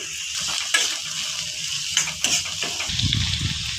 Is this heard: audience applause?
no